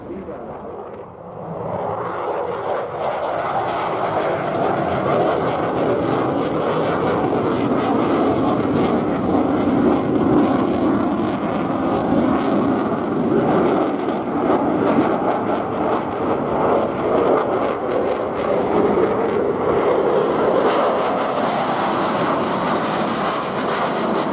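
A military jet flies at Bournemouth Air Festival, a loud sustained roar that swells in after a brief quiet start and holds broad and steady, with a commentator's voice running over it.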